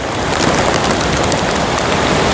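Heavy rain near Athirappilly waterfall, a dense, loud, unbroken hiss of pouring water with no pauses and no talk.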